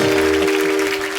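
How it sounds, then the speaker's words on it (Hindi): Studio audience applause on a Hindi comedy talk show set, loud and dense, filling the whole short stretch with a steady sustained tone running underneath. "ताली बजाओ भाई।"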